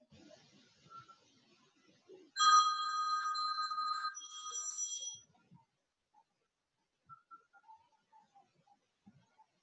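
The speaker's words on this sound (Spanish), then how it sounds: "Disculpen, no he silenciado mi celular" A mobile phone rings in a quiet classroom, its bright electronic ringtone sounding loudly for about three seconds before it is silenced, with faint voices murmuring around it.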